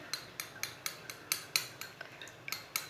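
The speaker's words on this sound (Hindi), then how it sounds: "अंडों को अच्छी तरह मिक्स कर लेंगे।" Eggs being whisked in a bowl with a fork or spoon in a home kitchen: about a dozen light, quick metallic clinks against the bowl in a steady rhythm, close and soft.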